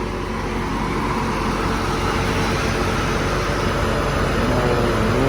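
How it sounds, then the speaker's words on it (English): A 1992 Chevrolet Corvette with 28k miles, all original, idling smoothly. The engine gives a steady, even hum with no knocks or irregular noises, heard close and alone, with no talking. "Engine runs smooth."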